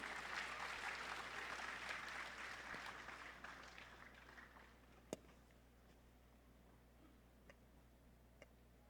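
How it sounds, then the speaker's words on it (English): Audience applause at an ASEAN conference, a dense wash of clapping for several seconds that gradually thins and fades, followed by a few sharp isolated ticks. "Please give a round of applause."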